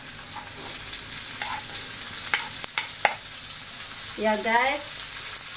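Bird's eye chili and red chili sizzling and crackling in a hot pan with stirring scrapes, steady frying noise throughout, with brief talk near the end.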